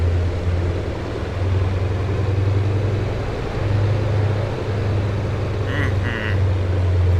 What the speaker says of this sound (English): This is a Ford Trimotor in Microsoft Flight Sim 2020. Listen to the sound of those radial engines.